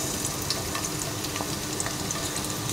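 Garlic fries in three to four tablespoons of oil in a pan, giving a dense, even sizzle with faint crackles and pops running steadily throughout, close by and without talk.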